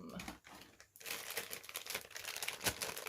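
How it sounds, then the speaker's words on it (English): Crinkly rustling of packaging and plastic while vintage action figures are handled, close, irregular crackles and crumples running almost continuously with a couple of brief pauses. "Sorry about the rustling"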